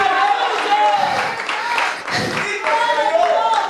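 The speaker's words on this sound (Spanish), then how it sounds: "¿Cuánto le dan un aplauso de alabanza fuerte?" A church congregation claps loudly in praise during an evangelical sermon, brisk rhythmic clapping with crowd noise and voices mixed in throughout, loud and close.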